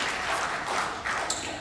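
Applause from an audience in a rehearsal room after a student's English speech at a Pasifika cultural event, a steady crowd-wide clapping wash sustained throughout.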